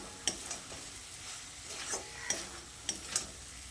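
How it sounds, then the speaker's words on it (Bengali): Fried potatoes being stirred into moong dal in a pan for a vegetarian banana-flower dish, giving soft scraping and light sizzling with a few sharp clicks of the spatula against the pan, close and alone without talk. "ভাজা আলুটা দিয়ে আবারও সব কিছুকে একসঙ্গে ভালো করে নেড়েচেড়ে মিশিয়ে নিচ্ছি।"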